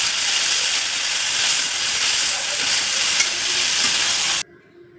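Chopped onion and tomato sizzle in a hot pan with salt as a spoon stirs them, giving a steady close frying hiss with small scraping ticks, running alone and then cutting off sharply.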